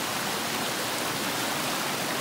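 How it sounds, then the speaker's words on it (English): A small waterfall in a creek at a backcountry campsite gives a steady, close rushing wash of water, even and unbroken throughout, with no voices. "We got a little waterfall."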